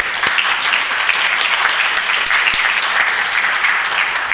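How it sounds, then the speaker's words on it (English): Audience at a Santa Ana city council meeting applauds zoo staff, a dense, steady wash of many hands clapping at close range, with no speech over it for the whole stretch. "Let's give them a round of applause"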